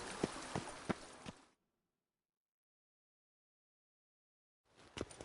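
In The Witcher 3: Blood and Wine, a galloping horse's hooves clop in a quick irregular burst. Near-silence follows, then the hoofbeats return briefly at the end.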